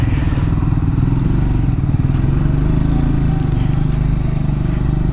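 Triumph Scrambler 400X motorcycle riding through city streets in Nepal, its steady engine drone and road rumble loud and continuous throughout, with faint clatter and no speech.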